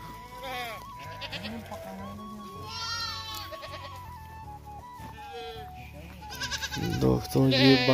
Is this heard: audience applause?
no